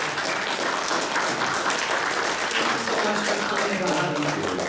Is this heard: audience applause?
yes